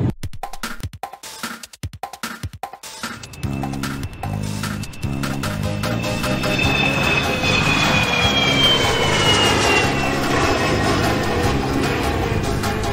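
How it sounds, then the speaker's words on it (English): A jet airliner on Flight 171 to France takes off, its engine roar building steadily into a loud, sustained rush with a rising whine, blended with music. "Flight 171 is now ready to take off."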